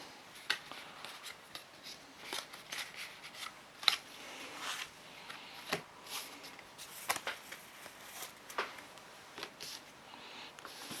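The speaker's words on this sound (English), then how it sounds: "let's just do a quick shuffle around" Pokemon trading cards from a Scarlet and Violet build and battle kit being shuffled by hand, quiet close riffles and soft card slaps in irregular bursts, with no voice.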